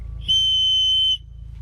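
A wind whistle mounted on a car bumper gives one clear, steady high-pitched tone lasting just under a second, loud and close against a faint low background hum.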